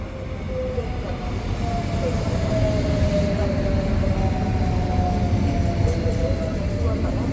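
Suburban Rodalia commuter train at Albal station in Valencia, a steady rolling rumble with a faint tonal whine, moderately loud and continuous, with a station announcement voice in the background.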